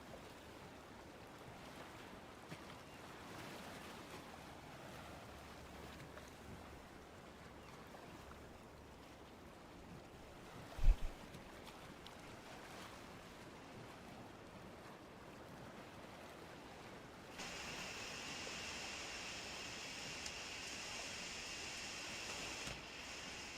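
Waves and wind wash steadily around a boat out on the open ocean in Minecraft, a constant broad hiss with a single sharp knock midway and a brighter airy layer near the end.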